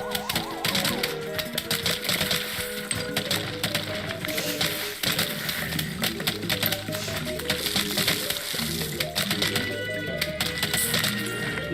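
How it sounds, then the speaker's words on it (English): Rapid, dense mouse clicking during a game of Plants vs Zombies on PC, constant tapping layered under loud game music and sound effects. "You all hear all the clicking that I gotta do?"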